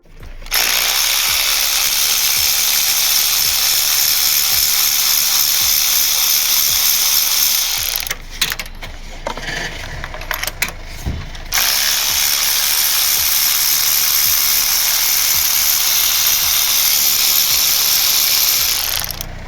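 A 16mm socket on a ratchet loosens the spark plugs of a Peugeot 107, making loud, rapid, continuous clicking that pauses briefly in the middle before resuming.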